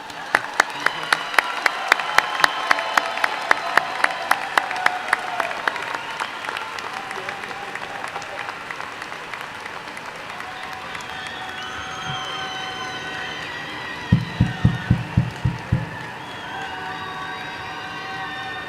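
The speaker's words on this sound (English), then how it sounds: "Keep clapping and we'll be here for another hour." Graduation commencement crowd claps and cheers for the graduates, loud and dense at first with sharp individual claps standing out, gradually thinning, then a brief renewed burst of clapping near the end.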